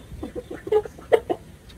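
Chickens at a village coop cluck in a series of short, uneven calls, a few louder bursts near the end, close by against a quiet background.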